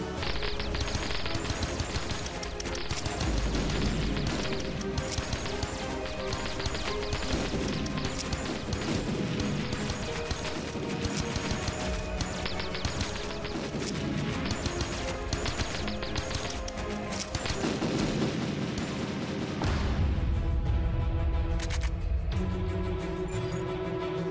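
The thumper weapon firing at a monster in the video game WarSphere: a loud, rapid run of crashing, thudding shots and impacts, dense and continuous over game music for most of the stretch.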